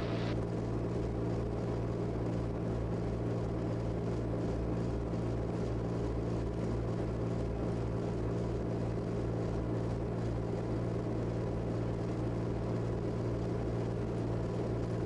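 The engine of the Raptor prototype aircraft idles alone on the ground at the Canton Cherokee County Airport, a steady, even drone with a low propeller hum that holds unchanged and fairly loud throughout.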